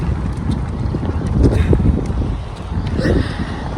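Strong wind buffets the microphone outdoors on a cool, cloudy day during a family walk, a steady low roar with louder gusts that rise and fall, and faint voices in the background.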